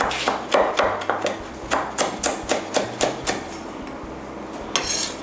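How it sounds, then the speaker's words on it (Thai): Repeated knife chops through coriander roots on a cutting board, about a dozen sharp taps in an uneven rhythm, close and fairly loud, with no talking. "เราก็จะต้องนำรากผักชีนะคะ มาหั่นซะก่อน"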